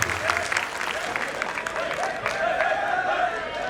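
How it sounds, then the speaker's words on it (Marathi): An audience at a college stage event honouring mothers breaks into steady, dense applause, with a few faint cheers mixed into the continuous clapping. "जरा एकदा जोरदार टाळ्या"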